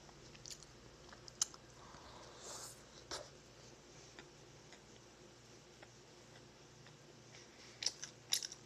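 A Dunkin' donut chewed up close, with crunchy bites and soft wet chewing repeating in a quiet room, a few sharp crunches standing out near the end.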